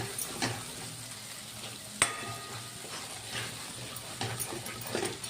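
Sabudana paste sautéing in ghee in a wok, a soft, low sizzle under occasional stirring scrapes, with one sharp metallic clink near the middle.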